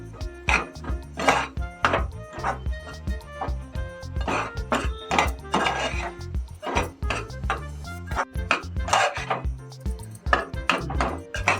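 Spoon scraping and clattering against a pan as tondli (ivy gourd) curry masala is stirred, a busy run of repeated knocks and scrapes close by throughout, with no talk.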